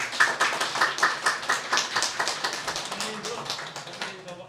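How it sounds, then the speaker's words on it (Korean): A church congregation at a Christmas service claps loudly and steadily in welcome after a baptism, a dense burst of many hands that slowly fades, with voices mixed in. "여러분 모두 환영의 박수 크게 해주시기 바랍니다"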